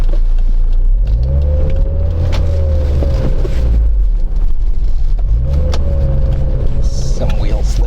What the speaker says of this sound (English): Some wheel slippage there.